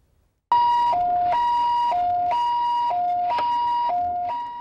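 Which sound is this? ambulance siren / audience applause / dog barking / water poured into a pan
ambulance siren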